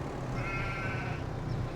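Sheep in Farming Simulator 25 bleat in a wavering, nasal call that runs through most of the short stretch, set against a steady low farmyard ambience with no talking.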